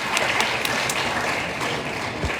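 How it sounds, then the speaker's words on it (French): Steady, even applause fills the hall after a student's presentation at a school eloquence tournament quarter-final, a dense wash of many hands with no voices above it. "Que je vous demande d'applaudir très fort"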